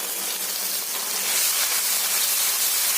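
Tomato paste tipped into a hot pan of fish curry, a continuous bright sizzling hiss that swells slightly partway through, heard alone.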